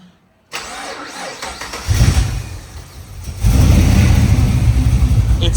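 LS V8 engine in an HZ Holden car, fitted with a power steering conversion, cranks and fires up close by, rising to a loud rumbling idle with a short rev before settling into a steady, deep, loud run.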